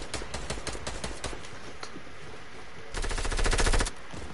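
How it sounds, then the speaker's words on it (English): Fortnite enemy gunfire crackles in quick rapid shots early on, then a sustained louder automatic burst near the end, fairly close with no talk over it. "they're shooting us from north"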